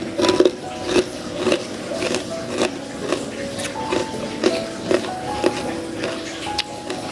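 Crisp bites into a crunchy homemade three-ingredient snack, repeated at a steady rhythm, close and fairly loud with nothing else over them.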